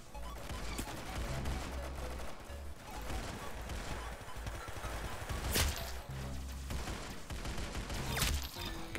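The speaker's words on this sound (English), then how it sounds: "I got a sniper rifle." Gunfire in a chaotic Roblox Arsenal match, a sniper rifle among the weapons, with a few sharp loud shots cracking over a constant busy wash of game music and battle noise.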